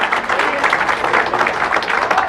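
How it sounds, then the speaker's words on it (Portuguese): A church congregation claps loudly and continuously during an afternoon service, a dense, even roar of many hands close by. "Aplauda nessa tarde."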